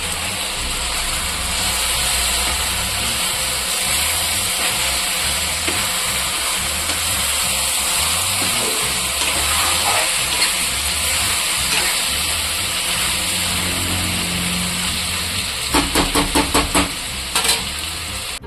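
Brinjal sautéing in oil with green chillies and chilli powder, a steady, loud sizzle that runs throughout, with a few close clatters of a spoon against the pan near the end.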